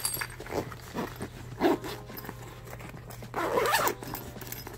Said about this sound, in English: Alright, zip it up.